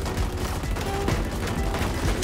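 Rapid video game gunfire rattles in dense, overlapping bursts throughout, fairly loud against a busy game soundtrack.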